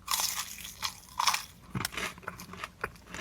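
Crunchy fried chicken tender from a restaurant being bitten into, giving several sharp, close crunches and crackling chews in quick succession with short pauses between bites.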